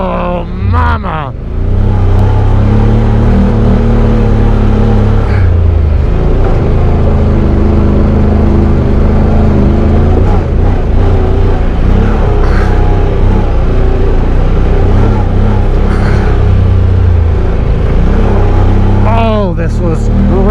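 A Honda Talon side-by-side with a DCT transmission and 30-inch Megabite tires climbs a forest trail, engine revving and droning loudly with audible shift changes in pitch, while people talk and exclaim over it.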